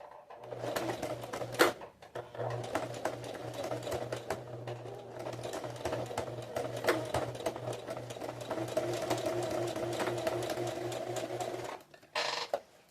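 A sewing machine stitches a zipper onto a small fabric pouch, a steady fast mechanical whir with a short pause near the start and a stop near the end, close and alone.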